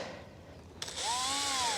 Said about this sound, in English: Then we'll get the drill. Then we're just going to go through and use this auger bit